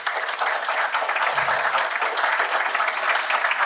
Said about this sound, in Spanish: Fuertes los aplausos para él.